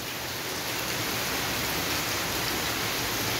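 Heavy rain falls in Uttar Pradesh with a dense, steady roar of countless drops. It stays loud and unbroken throughout, with no voices.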